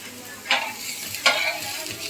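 Vegetable dish of hyacinth bean pods frying in a pan, a steady sizzle broken by two sharp scraping stirs, close and alone without talk.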